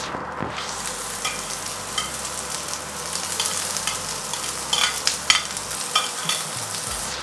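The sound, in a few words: vegetables and peppers stir-fried in oil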